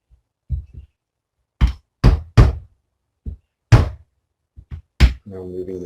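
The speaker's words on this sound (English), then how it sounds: "Going to use my workshop chisel again." A workshop chisel knocking on a stuck gear lever in a Toyota Land Cruiser 80 Series, a series of loud, sharp, isolated thuds with pauses between them, followed by a brief low hum.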